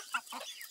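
A young chicken clucks in a few short, soft calls close by, faint against quiet background.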